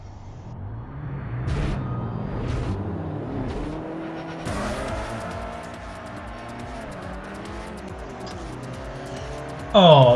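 Race cars drive in the video game Forza Motorsport 4, with engines roaring and shifting pitch, tires squealing, and a loud burst near the end, over steady in-game racing audio.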